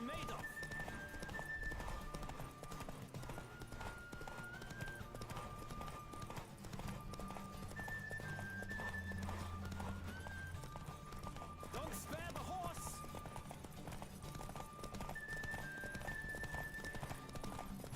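A horse gallops in a race in The Witcher 3, with quick rhythmic clip-clop hoofbeats running under steady game music and effects while someone talks over the action.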